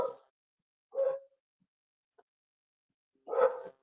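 A dog barks in short bursts, three distinct barks spaced a couple of seconds apart with quiet between, moderately close and heard alone.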